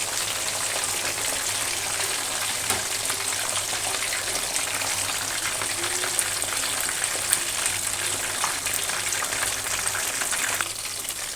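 Cornflour-coated fish fries in hot oil in a pan, a dense, steady crackling sizzle that stays close and even throughout with no talking.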